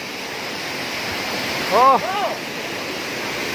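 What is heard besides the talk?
waterfall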